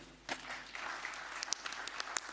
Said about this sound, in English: We can now clap hands for everybody.